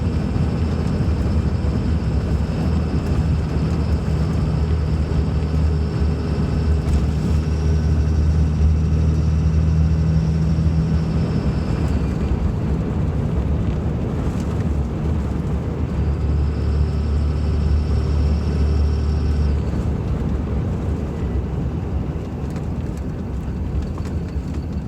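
A third-generation Dodge Ram truck cruising at night gives off a steady, continuous road and engine drone. It holds an even level throughout, with occasional faint whines rising above it and no talking.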